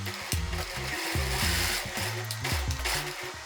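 A sewing machine stitches a muslin sample of a dress bodice, a close, continuous mechanical whir with rapid rhythmic pulsing and brief changes in speed, with no talking.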